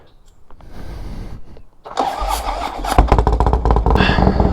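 A motorcycle fitted with a new unpainted fairing starts up on a test ride, giving a short crank and then a rising, throbbing engine rumble that grows louder and closer.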